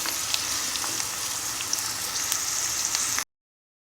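Bell pepper frying in a pan for borscht, a steady crackling sizzle with small pops, close and moderately loud, then a brief cut to silence.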